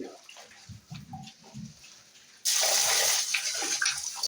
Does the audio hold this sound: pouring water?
yes